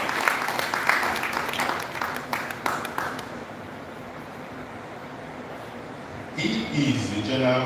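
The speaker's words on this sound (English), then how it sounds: "Let's applaud him well." An audience at a Shell LiveWIRE entrepreneurship graduation event in Nigeria claps for a panelist, a crowd applause that fades out partway, followed by a voice speaking.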